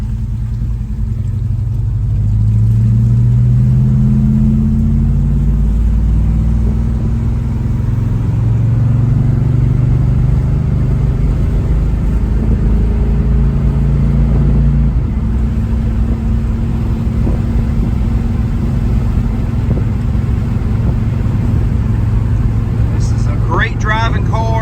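A 1969 Chevrolet Chevelle SS, all original, cruises on an autumn road, its engine a steady loud low rumble throughout with shifting tones as it pulls along.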